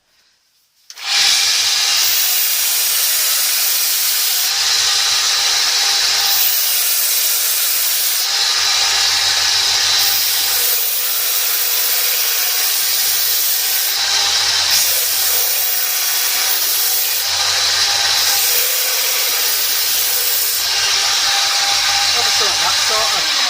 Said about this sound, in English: Drill press.